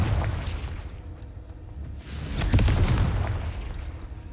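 Confringo exploding spell cast in a Harry Potter video game, a dense booming blast that swells around the middle of the clip over a steady rumbling game background, with no talk.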